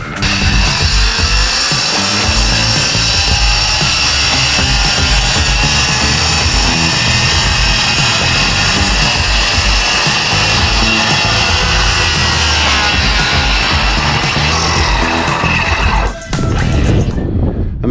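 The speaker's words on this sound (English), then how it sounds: "I'm gonna have to get this up here with the sawzall or something." A Sawzall reciprocating saw cuts through an overhang, a loud, constant buzzing rasp running almost without pause before cutting off abruptly near the end.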